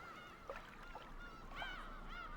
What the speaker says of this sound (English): You can hear the seagulls crying.